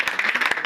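Church congregation clapping, a short burst of sharp, uneven hand claps from a crowd, fairly close and loud.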